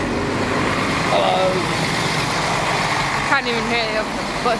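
A bus passes close by outdoors with a loud engine rumble and road noise that drown out the surroundings. A brief hiss or squeal near the end rises above the roar, and voices talk faintly underneath.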